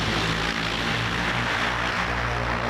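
An XPENG flying car prototype in flight gives off a steady, loud propeller whir and hum, continuous and close throughout with no speech.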